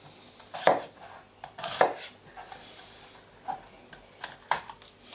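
A knife cutting the ribs out of an Italian pepper on a board, giving several sharp, close taps and scrapes, two stronger cuts followed by lighter irregular ones.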